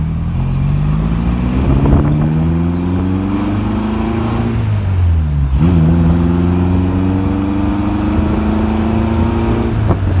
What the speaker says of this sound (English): This is just such a nice drive at Old Healey.